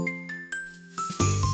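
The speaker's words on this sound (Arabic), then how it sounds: "سمع فجأة صوت أجراس قادم من السماء" Magical sleigh bells chime from the sky as Santa's sleigh passes, a few bright rings struck one after another with short decays that thicken into a fuller jingle near the end.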